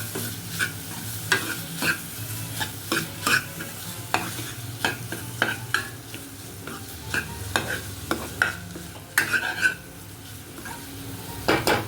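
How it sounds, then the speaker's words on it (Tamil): Paneer frying in a pan with masala, tomato, onion and green chili for a paneer dosa filling, a steady sizzle under repeated scraping and clinking stirs of a utensil against the pan, close and without talk. "பன்னீர் 3/4 கப்பு எடுத்து வச்சுருக்கேன் அதை ஆட் பண்ணிக்க வேண்டியதான் ஆட் பண்ணிவிட்டு நல்லா மிக்ஸ் ஃப்ரை பண்ணணும்"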